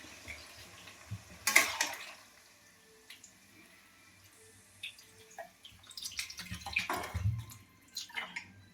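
Water is poured into a pan of cauliflower and potato curry, a loud splashing rush followed by quieter stirring, drips and a second pouring burst later.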